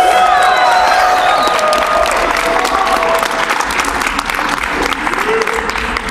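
A large crowd at the SGDQ 2014 speedrun marathon cheers and applauds loudly, a dense wash of clapping that fades slightly toward the end.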